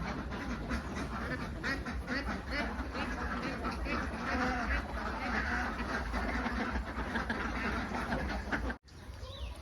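Laying ducks in a farm pen quack in a busy, overlapping chorus, with some clucking fowl mixed in, steady and fairly close, while a voice speaks faintly in the background.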